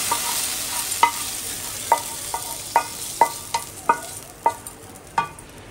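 Faint sizzling of spices frying in oil to temper lentils, broken by a series of sharp metallic scrapes and taps from stirring, roughly one every half second.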